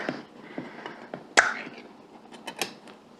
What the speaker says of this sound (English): Let's open our can.